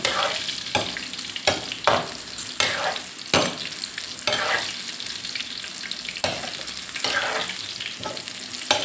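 Thai fish cakes (tod man pla) made with fish deep-fry in hot oil, giving a steady crackling sizzle broken by repeated louder bursts and scrapes as they are stirred and turned, close up with no voices.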